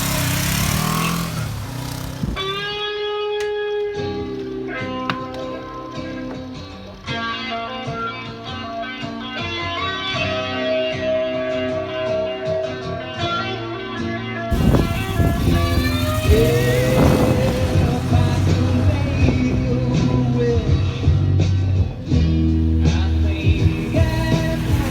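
A restored Suzuki GS450L classic motorcycle, back on the road after about a decade, runs and revs as it rides off. The engine note is loud and continuous, with rising harmonics of acceleration and a stronger surge partway through.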